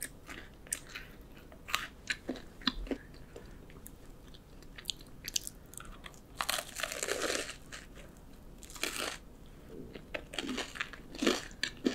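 Crunchy cheddar cheese financier, crisp outside and moist inside, being bitten and chewed up close, with repeated sharp crunches and crinkly bursts at an irregular pace and no talking.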